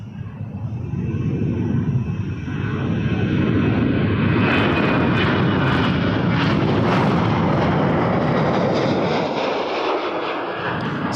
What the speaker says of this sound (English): As the Sunwing departs.